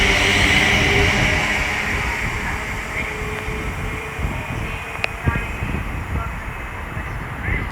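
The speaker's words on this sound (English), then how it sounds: "is the 1415 Avanti West Coast service from London Euston to Lancaster." An Avanti West Coast service from London Euston to Lancaster passes through Milton Keynes Central station, a loud continuous rumble and rush of wheels on rail that eases slightly as the train goes by.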